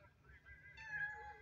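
A house cat meows softly, a short drawn-out tonal cry rising in pitch, faint and close, with a low background murmur.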